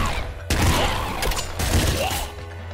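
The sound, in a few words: seeker shotgun firing in the video game Nuclear Throne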